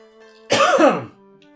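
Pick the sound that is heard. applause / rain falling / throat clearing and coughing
throat clearing and coughing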